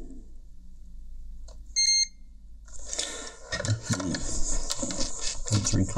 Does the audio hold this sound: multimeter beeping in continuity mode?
yes